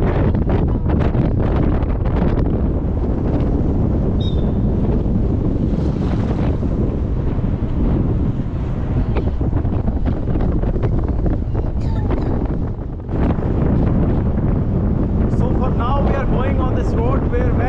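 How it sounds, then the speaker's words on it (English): Strong wind buffets the microphone outdoors during an evening leopard safari at Bera near Jawai Dam in Rajasthan, a loud continuous rumbling roar with voices talking under it. "Very nice cool wind is blowing."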